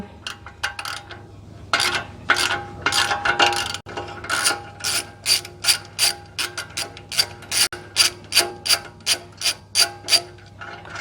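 A hand ratchet backs out 17mm bolts on a Toyota solid front axle, a long run of close, loud rapid clicking bursts that repeat in a steady back-and-forth rhythm with no talking.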